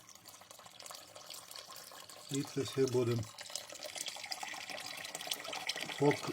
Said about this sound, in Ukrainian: Зараз додаємо літр води